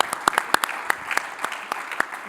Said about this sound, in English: let's give him also a warm welcome and a round of applause